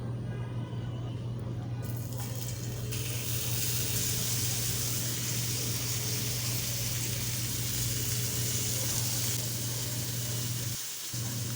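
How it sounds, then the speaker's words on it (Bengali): Sweet pumpkin slices fry in hot oil, giving a steady, close hiss that holds at one level throughout with a low constant hum under it; nobody speaks. "বাকি যে কয়টা আছে সেগুলোও ভেজে নেব সেম প্রসেসে ভেজে নেবো"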